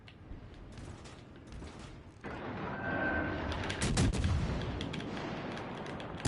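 Heavy naval gun salvos boom and rumble from a warship in World of Warships Legends, a sustained loud burst of gunfire with mechanical clanks after a quieter stretch, one sharp report near the end.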